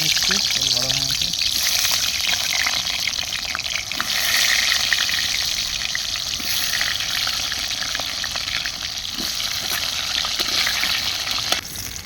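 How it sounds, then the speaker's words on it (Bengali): Potatoes frying in hot oil in a wok, a steady loud sizzle and crackle that carries on without a break, with faint clatter from stirring. "আলুগুলো ভেজে নিচ্ছি, তেল গরম হয়ে গেছে।"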